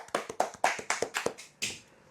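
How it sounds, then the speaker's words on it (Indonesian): Sparse hand clapping from a few people in a small coffee-shop gathering, about eight distinct claps at an uneven pace, close and fairly quiet. "Tepuk tangan semuanya"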